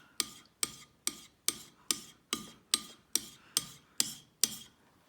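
Harbor Freight chisel stroked on a fine sharpening stone, eleven evenly spaced raspy scraping strokes about half a second apart, close and clear with no talking.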